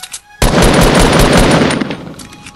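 A minigun fires in the Fortnite battle royale game, a loud continuous rapid burst of shots lasting nearly two seconds, then trailing off into a few scattered sharp reports.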